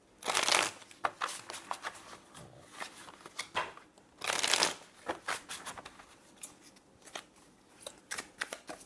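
Tarot cards being shuffled by hand, crisp riffling bursts at the start and midway, with lighter flicks and taps of the deck in between, close and fairly quiet with no talk.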